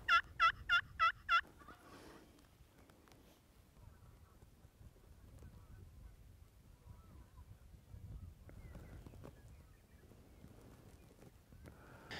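A wild turkey gobbles in one quick, loud burst of about five rattling notes, then falls silent, leaving faint outdoor ambience and soft rustles.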